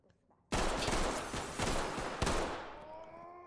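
Pistol fire in the tactical shooter Ready or Not, a sharp close burst of several quick shots followed by a second crack and a fading echo.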